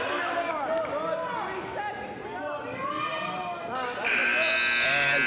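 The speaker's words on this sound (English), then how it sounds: "no points to show for it as the buzzer sounds" A loud electronic buzzer sounds near the end to close a period in a high school wrestling match, Gateway vs Sterling, cutting in abruptly and holding steady over a noisy gym crowd and a commentator talking.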